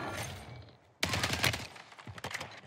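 Video game gunfire crackles in fast bursts, an opening volley that fades, then a loud sudden rattle of rapid shots followed by scattered quicker pops.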